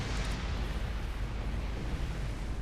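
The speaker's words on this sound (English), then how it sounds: "Big kaboom." Ships blow up in the Star Trek Online game, a dense rumbling blast roaring steadily and loudly for a few seconds, with no talking.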